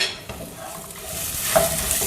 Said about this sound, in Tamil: இப்போ இதை போட்டு வதக்கலாம்.